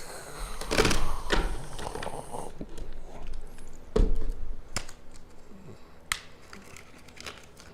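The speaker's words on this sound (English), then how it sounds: "I'm gonna just shuffle this deck" A tarot card deck being shuffled by hand, crisp riffling and crinkling bursts, near and loud at first, then a few sharp isolated card taps and snaps.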